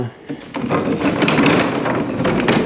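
An old sliding barn door rolls roughly along its rollers inside a stone cottage, a continuous close grinding, bumping rumble lasting the whole stretch.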